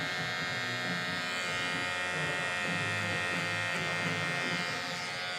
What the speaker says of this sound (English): By trimming these back, it's going to make the beard look a lot more fuller.